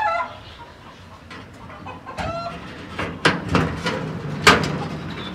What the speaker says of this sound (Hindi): जो हमारा मुर्गा है वो इतना ज़्यादा शोर करता